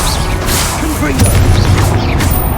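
Confringo blasting spell exploding during combat with a giant guardian in Hogwarts Legacy, a loud booming burst with crashing impacts amid dense game battle noise and a voice speaking over it.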